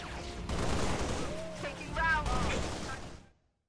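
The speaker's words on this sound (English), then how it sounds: "That's a friendly grenade!" Friendly grenade blast in Halo: Reach, a loud booming burst with crackling debris under excited gameplay speech, followed by a fading tail before cutting to silence.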